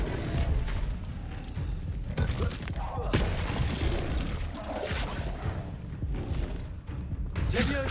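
A fire spell cast in the Hogwarts Legacy video game bursts out in dense, crackling whooshes and booming impacts, a busy, loud combat wash with several sharp hits over about eight seconds.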